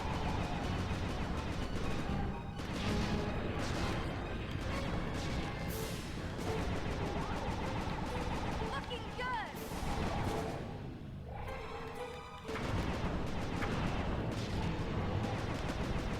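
Turret gun fire in the video game Sly 2, dense repeated shots and crashing impacts layered with game effects, loud and nearly continuous with a brief quieter gap.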